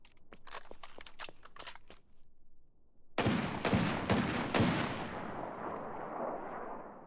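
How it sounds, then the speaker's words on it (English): Automatic weapon fire in a trench-warfare video game, a quick burst of sharp cracks followed after a pause by a louder, denser volley of heavy shots that rings out into a fading rumble. "another gun that is really good in trenches and close quarter, Tina."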